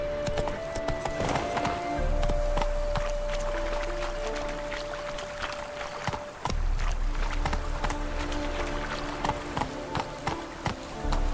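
Hooves of Roach, a horse in The Witcher 3: Wild Hunt, clip-clop at a steady galloping rhythm alongside game music and effects, the pounding continuing almost without break from start to finish.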